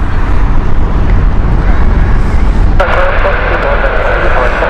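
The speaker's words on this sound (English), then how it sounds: "So this is the Amsterdam flight operated by Flybe." Steady loud roar of a Flybe passenger jet bound for Amsterdam at Heathrow Airport, a 2008-built aircraft, with the engine noise rising in pitch partway through while a person talks over it.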